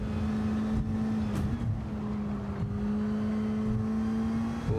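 A Bac Mono race car in Gran Turismo 7 on the Tokyo Expressway holds a loud, steady engine drone, with a brief blip under braking before the note evens out again.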